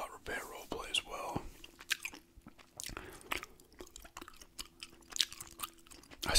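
Gum chewing close to the microphone, with soft wet smacks and clicks scattered through the whole clip, mixed with quiet talk.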